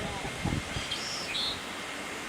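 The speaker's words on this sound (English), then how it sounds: "if you heard that, that is the red-winged blackbird" A red-winged blackbird calls with a few thin, high whistles and a brief trill outdoors on a shorebirding outing, faint and somewhat distant over a steady background hiss, with a short low murmur of a voice early on.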